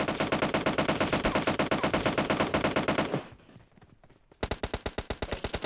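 Automatic gunfire in PUBG Mobile, a loud, rapid burst for about three seconds, a brief pause with faint noise, then another steady string of evenly spaced shots.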